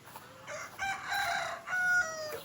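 Chickens on a farm crowing and clucking, a rooster's crow rising over faint background noise in a short burst.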